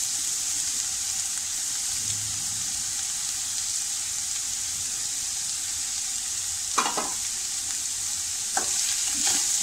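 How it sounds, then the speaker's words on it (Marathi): French bean bhaji with grated fresh coconut sizzles steadily in a pan while being stirred, with a few brief scraping strokes near the end and no talking. "थोडे ढवळून घेऊया."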